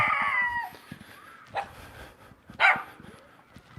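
A dog barks and yelps a few times in short, sharp bursts, fairly near, amid quiet outdoor background and a faint earlier tone.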